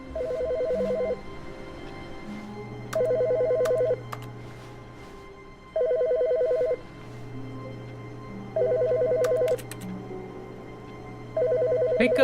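Phone ringing in The Stanley Parable video game, a repeating electronic trill in five evenly spaced bursts about three seconds apart, moderately loud over a quiet hum.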